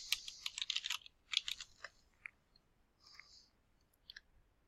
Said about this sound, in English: I'm going to type in the title.